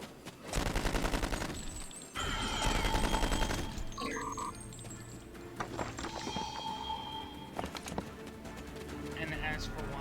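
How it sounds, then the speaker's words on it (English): Thompson submachine gun fired in the Star Trek Online game, rapid bursts of automatic gunfire in two sustained strings followed by scattered shots and game effects, with someone talking over it. "using a Thompson submachine gun is cheating"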